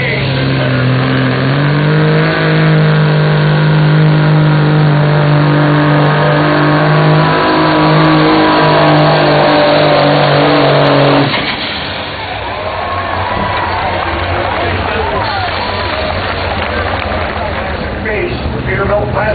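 A pulling truck with a 1,150-cubic-inch Cummins KTA 600 single-turbo engine revs hard and loud at a county fairground truck pull, a steady roaring drone that drops in pitch partway through, with an announcer talking over it throughout.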